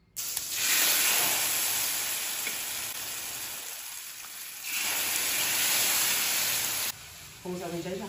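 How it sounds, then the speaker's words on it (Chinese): Food sizzles loudly in a frying pan in a home kitchen, a dense continuous hiss that swells and eases over several seconds, with a brief drop near the end and faint clatter. "我又开始煎"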